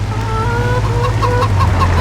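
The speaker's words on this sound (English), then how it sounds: "my rooster's loud" A rooster clucks and calls repeatedly in a farming video game, with steady wintry farm ambience and a low hum running beneath throughout.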